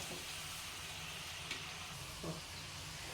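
Potato french fries half-frying in hot oil give off a steady, soft sizzling hiss with a few faint pops, constant and close with no talking.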